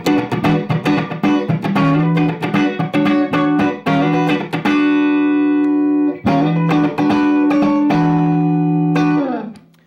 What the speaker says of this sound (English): And that's a Deluxe Reverb amp.